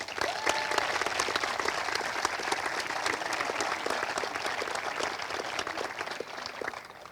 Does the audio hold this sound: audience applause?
yes